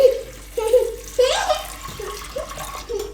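Water is poured into a pressure cooker of soaked chickpeas in short splashing bursts under a voice talking over a kitchen background.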